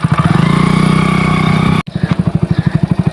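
A motorcycle engine runs loud and close with a rapid, steady thumping pulse that cuts off abruptly, then settles into a slower idle chug.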